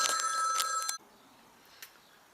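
A telephone bell rings close by in a quick burst for about a second, then cuts off abruptly. Faint room quiet follows, with one small knock.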